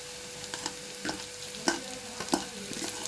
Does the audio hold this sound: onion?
yes